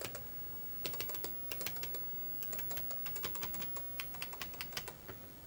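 Microbyte HC120 home computer keyboard with a fault, keys clicking in quick irregular bursts of typing, close and fairly quiet, no talking.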